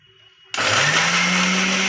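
After a quiet moment, an electric mixer grinder kicks on and whirs loudly and continuously, blending ginger, garlic, chili and cumin into a paste.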